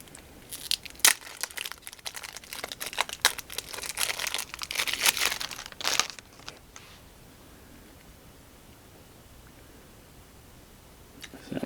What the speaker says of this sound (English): Let's see if I can get these cards open.